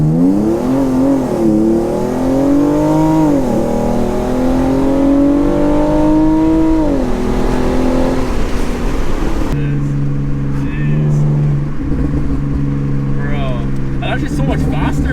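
A Hyundai Genesis Coupe revs hard on a dyno at a tuning shop, its engine pitch climbing and falling in long sweeping pulls before settling to a lower steady drone, loud and close, with people talking in the background.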